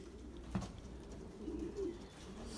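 Pigeons in a loft, low soft cooing from several birds close by against a quiet hum, with a brief bump near the start.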